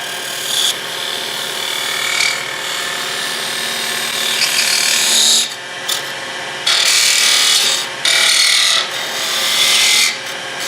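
A turning gouge cuts wood on a lathe while a lidded box is shaped. Close, steady hissing scrape in long passes, broken by a few short pauses, with no talking.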